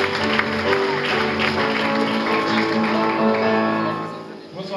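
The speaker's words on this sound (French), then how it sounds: "je vais demander une ovation pour Hervé Sébula" Audience at an awards ceremony breaking into a sustained ovation, dense clapping that holds steady for several seconds before tapering near the end, with music tones under it.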